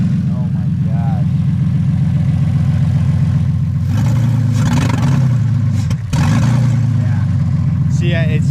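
BMW E30 with a swapped M52B28TU engine running on open headers, a loud, close, raspy idle that surges upward midway, dips briefly, then settles, with a voice talking over it.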